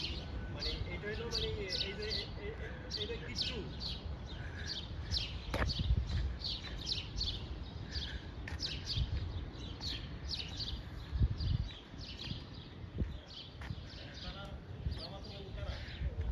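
Birds chirping from nesting spots in bushes beside a residential street in America, quick repeated tweets fairly faint over a steady outdoor rumble, with a person talking throughout.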